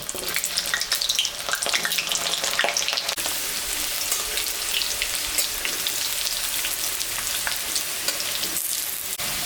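Potatoes fry in hot mustard oil, giving a loud, steady, close sizzle with crackling spatters that runs unbroken throughout, with no voices.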